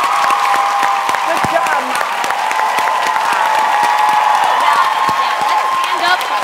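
Studio audience applauding and cheering, steady clapping with a few whoops running throughout while a voice speaks over it.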